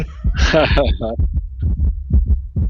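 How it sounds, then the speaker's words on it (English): Fast heartbeat sound effect with steady low thumps in quick rhythm, loud and close, under a voice talking over the top. "his heart beating fast"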